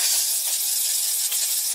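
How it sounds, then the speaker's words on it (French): A compressed-air blow gun blasts a Harley Street Rod 750 air filter clean in a workshop, a loud steady close hiss that holds for nearly two seconds, then cuts off abruptly. "Alors, petit coup de soufflette."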